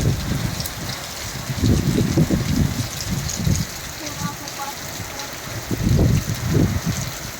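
Thunderstorm rain falls steadily in a broad hiss while low voices talk intermittently over it, the downpour continuing throughout.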